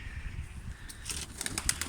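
A tumbler pigeon's wings flap in a quick burst of soft, airy beats near the end, growing louder as the bird lands, over a low background rumble.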